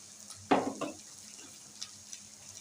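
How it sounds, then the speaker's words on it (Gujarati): Peas being mashed in a pot for ragda: one moist squelching stir and press, then a softer second scrape, followed by faint quiet kitchen background. "થોડું વટાણાને મસળી નાખવાના છે."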